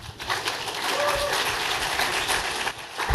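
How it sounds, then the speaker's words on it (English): Audience applause at a startup lecture event, steady broadband clapping from a crowd filling the room for about three seconds, fairly close, with faint voices underneath. "So I'd like you all to lend a round of applause to Garry Tan."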